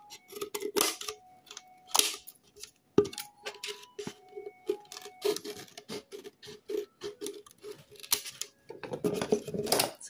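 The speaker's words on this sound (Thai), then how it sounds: "ให้เราใช้กรรไกรแต่งแบบนี้ครับ" Scissors snip repeatedly at the cut edge of a plastic water bottle, giving irregular crisp clicks and crinkly plastic scraping up close, with brief pauses between cuts.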